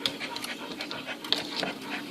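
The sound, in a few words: dogs panting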